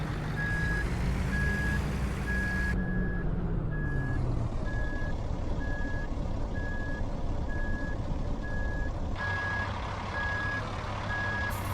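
Truck reversing in a truck-driving video game: an even, steady series of beeps keeps sounding over a constant, loud engine drone with shifting rumble throughout.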